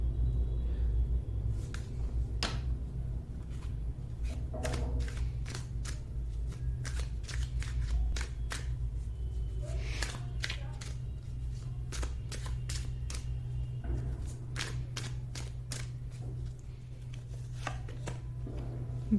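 Tarot cards are shuffled and drawn by hand, a run of sharp irregular card snaps and flicks over a steady low background hum, fairly close but quiet.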